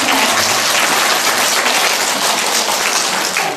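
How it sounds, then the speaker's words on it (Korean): Audience at a lecture claps loudly and continuously, a dense, even burst of applause filling the hall for several seconds. "그래도 박수 쳐주시는 거 보세요"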